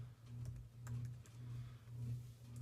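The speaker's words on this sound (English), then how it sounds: "So we'll just type in adhesives" A computer keyboard is typed on in quick, light, irregular keystrokes, faint against a low steady hum, with no voices.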